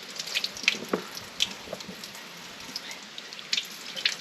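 Tap water runs over freshly harvested tropical herbs being rinsed in a kitchen sink, a soft steady splash with occasional drips and spatters close by.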